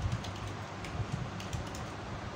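Keystrokes on a computer keyboard while typing JavaScript code, a quiet, irregular run of soft taps close by, with a steady low hum underneath and no voice.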